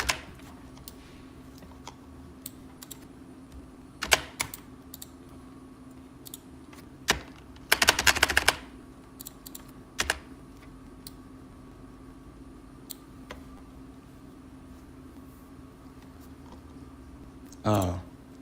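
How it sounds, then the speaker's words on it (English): Several sharp key clicks on a computer keyboard, including a dense burst of rapid taps near the middle and a final press at the end, sounding close over a steady low hum. "I'm literally pressing enter on my keyboard right now"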